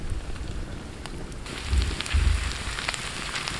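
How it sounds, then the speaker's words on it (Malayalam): Green chillies and curry leaves sautéing in a pan for a beef dish, a steady loud sizzle and crackle with soft thuds of stirring partway through. "അപ്പോൾ ഇങ്ങനെ വഴറ്റിയെടുക്കുന്നതിൻ്റെ ഇടയ്ക്ക് മുളകൊക്കെ ഇങ്ങനെ കറക്റ്റായിട്ട് ഇങ്ങനെ പൊള്ളി വരുന്നുണ്ട്"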